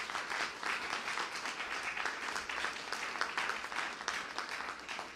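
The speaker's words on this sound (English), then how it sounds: "Can we give them a round of applause, please?" A crowd at an Illinois state government event claps steadily, a dense, even patter of applause heard at moderate distance with no one speaking.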